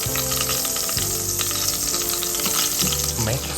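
Whole cardamom, cloves and cinnamon stick frying in hot oil, a steady close sizzle and crackle with brief stirring scrapes over soft background music.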